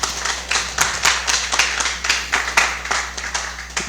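Applause from a seminar audience, a few hands clapping in a steady rhythm, fairly close and moderately loud, with a low constant hum underneath.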